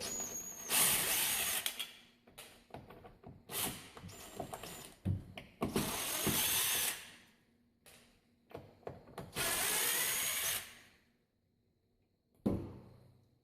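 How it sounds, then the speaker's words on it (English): A screw gun backing screws out of an Andersen window crank on the sill, with three long whirring bursts of the driver between shorter runs, rattles and handling knocks, ending with a sharp clunk. "grab a screw gun or Phillips screwdriver. And undo all the screws that hold the window crank to the sill."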